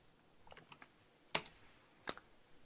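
A few scattered keystrokes sound on a computer keyboard while code is typed, with quiet, sharp clicks in an uneven rhythm and two louder taps standing out.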